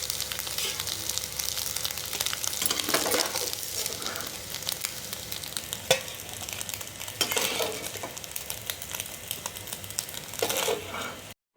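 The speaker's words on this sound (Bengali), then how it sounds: "ডিমটা আমার ভাজা হয়ে গেছে" An egg fries in hot oil in a pan, giving a steady sizzle with occasional clinks of a utensil against the pan, fairly quiet and with no talk.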